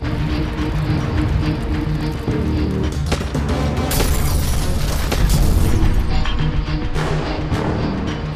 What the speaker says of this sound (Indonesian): Hirosuke bersama skuadnya langsung membombardir rumah-rumah milik penduduk Indonesia dengan senjata canggih besutan zaman grafik Majapahit.